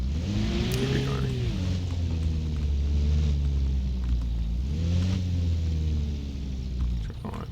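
A car engine in the Arma Reforger video game runs steadily and loudly with a low rumble, rising twice in pitch as if revving, then easing before shutting down near the end.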